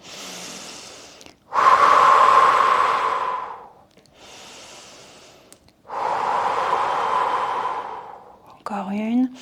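Slow, deep breathing during a gentle French gym exercise class, with long loud exhalations alternating with quieter pauses, close up, and a brief voice near the end.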